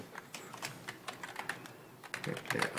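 Quick, uneven clicking of fingers typing on a computer keyboard, close and fairly quiet, in short bursts with brief pauses while a message is written.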